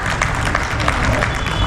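An audience at a kavi sammelan poetry gathering breaks into dense, loud applause, a continuous wash of clapping that stays steady for the whole short stretch.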